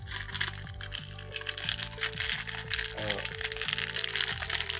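Small plastic Lego pieces spill and clatter out of a parcel bag from a Bricklink order, a busy rattling crinkle running through the whole stretch over steady background music.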